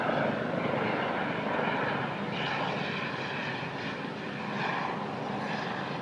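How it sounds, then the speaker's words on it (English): A medical helicopter passes overhead across a college campus, a continuous broad rotor and engine roar at moderate distance, swelling slightly and holding steady without speech. "medical chopper that's flying across campus"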